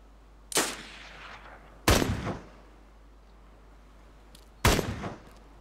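Three gunshots ring out in the video game DayZ, sharp loud cracks spaced a second or more apart, each trailing off into a short echo over a quiet background.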